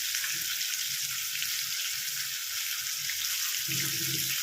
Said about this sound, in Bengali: মাছ তেল গরম হলে দিতে হবে, আর দেওয়ার সঙ্গে সঙ্গে উল্টোলে চলবে না।